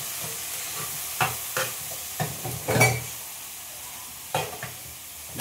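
Chicken stirred in a sizzling pan, a steady frying hiss broken by several scraping stir strokes at uneven intervals, close and moderately loud with no talking.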